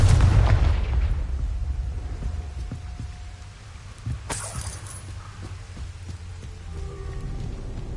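A Confringo fire spell goes off in Hogwarts Legacy, a booming blast that opens with a heavy low rumble, settles into a crackling, rain-like hiss and ends with a sharp burst partway through, with no talk.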